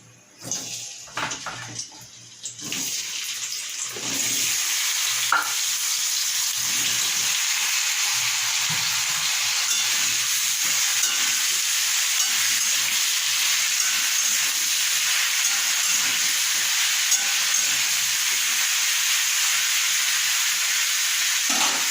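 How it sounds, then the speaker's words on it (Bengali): Goat meat and potatoes frying together in oil in a wok, a steady loud sizzle and hiss that settles into a continuous roar after a few seconds of clatter, with no talking. "কড়াইতে তেল দেওয়ার পরে আমি আলু এবং গাছ পাঁঠার মাংসটা একসাথে একটু লাল লাল করে ভেজে নেব।"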